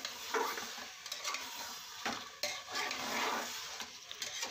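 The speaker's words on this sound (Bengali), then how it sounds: "মাংসর মশলাটাকে ভালো করে কষাচ্ছি" Meat and spices being stir-fried in a pot for a meat curry with taro, a close, continuous hiss and sizzle broken by rhythmic scraping and clinks of a spoon against the pot, with no talk.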